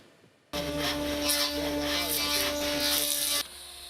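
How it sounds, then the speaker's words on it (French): Electric sander running on upholstery fabric and carpet in a local upholsterer's workshop, starting abruptly with a steady whirring buzz and mains hum, then cutting off near the end. "le bruit de la ponceuse sur le tapis et le tissu"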